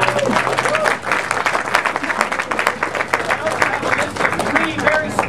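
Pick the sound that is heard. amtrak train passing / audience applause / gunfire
audience applause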